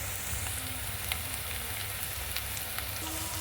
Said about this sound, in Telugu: ఉల్లిపాయలు పచ్చిమిర్చి వేగుతున్నాయి